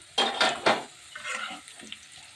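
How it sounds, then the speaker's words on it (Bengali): Potatoes frying in a pan while being turned over, with a few loud scraping, clattering strokes of a spatula followed by a softer, steady sizzle and light stirring. "এবার আলুগুলো একটু এপাশ সেপাশ করে ভেজে নিচ্ছি।"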